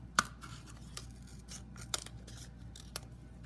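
Scissors snip a strip from a paper tube in a few separate, sharp cuts spread across a quiet moment, close and crisp.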